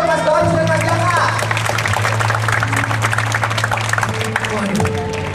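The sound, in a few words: audience applause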